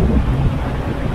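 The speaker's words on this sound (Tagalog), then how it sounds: "Mahangin pa rin dito" Gusty wind roars across a microphone high up at Victoria Peak in Hong Kong, a loud low buffeting rush that swells and eases over a brief moment, with no voices.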